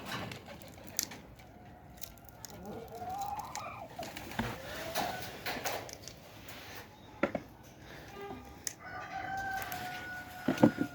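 A rooster crows a few times among pigeons in a coop, with cooing and clucking fowl around it and faint rustling, at moderate distance and with no talking.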